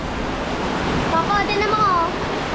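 Strong floodwater rushes past in a steady, loud, broadband roar, with a faint whistle-like tone and voices in the background.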